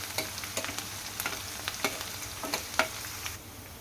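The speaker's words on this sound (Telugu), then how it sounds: "ఆయిల్ హీట్ అయిన తర్వాత ఉల్లిపాయ ముక్కల్ని వేసేసుకోవాలి ఉల్లిపాయ ముక్కల్ని బాగా ఫ్రై చేసుకోవాలి" Onion pieces frying in hot oil for an okra curry, giving a steady close sizzle broken by several sharp stirring clicks and scrapes of a spoon against the pan.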